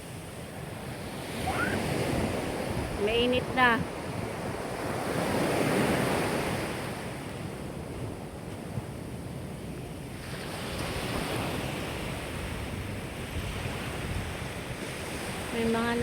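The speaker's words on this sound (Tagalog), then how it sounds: "Ganda ng dagat." Sea waves wash steadily onto a beach under gusting wind, a broad continuous roar close to the microphone with wind buffeting, while people talk briefly over it.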